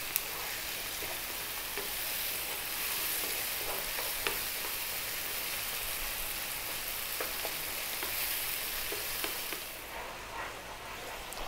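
Juicy tomatoes sizzle steadily in a pan for a creamy garlic tomato pasta sauce, a dense, even hiss broken by occasional soft clicks from stirring, with no talking.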